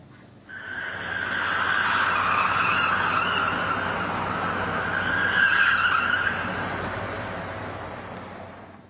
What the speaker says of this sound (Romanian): Un șofer a fost filmat cum face drifturi în jurul monumentului dedicat eroilor căzuți în războiul din Afganistan